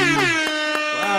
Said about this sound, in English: 2 air horns for Bryce